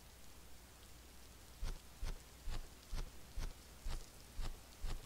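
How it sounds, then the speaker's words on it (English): Rain starts falling in the kingdom-building game Realm of Rulers, a faint, steady hiss with regularly spaced dripping taps in the second half. "You can see that it's starting to rain."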